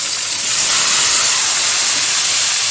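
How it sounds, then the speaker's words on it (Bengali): Washed vegetables hit hot tempering oil in a pan, producing a loud, close, continuous sizzling hiss that stays steady throughout with no talk. "এখন দিয়ে দেবো এর মধ্যে ধুয়ে রাখা সবজি"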